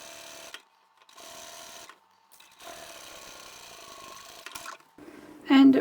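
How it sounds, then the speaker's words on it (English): Sewing machine stitching the bottom seams of tote bag pieces in short runs of steady whirring, separated by pauses, with a louder clatter at the end. "sew up the bottom of our bag pieces"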